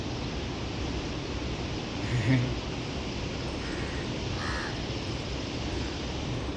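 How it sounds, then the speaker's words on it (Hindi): A crow caws faintly a couple of times while people put out food for it at a roadside spot along the Narmada, under a constant loud rush of wind or traffic noise. "देखो कौवे के लिए भोजन डाल रहे लोग, कौवा पा रहा है।"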